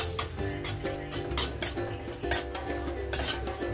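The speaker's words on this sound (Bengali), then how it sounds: "শুকনো লঙ্কাটা দিয়ে দিয়েছি কড়াইয়ের মধ্যে, এটা আমি ভেজে নেব" Dried red chillies fry in oil with a little salt in a wok, giving a steady close sizzle with light utensil clinks and scraping stirs.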